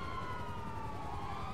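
Fire truck siren in the video game GTA Online: a steady wailing siren that sweeps slowly downward in pitch over a dense rumble of game noise, with no voices over it.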